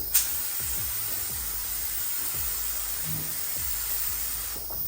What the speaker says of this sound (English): I'm going to spray this at a low pressure, about 10 psi, and just do one medium wet coat over it